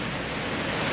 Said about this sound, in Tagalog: Naglalalit ang alon.